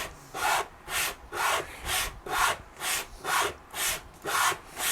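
Wood is rasped back and forth along the edge of a Telecaster guitar body to level it. Ten steady, evenly timed scraping strokes sound close up, with no voices.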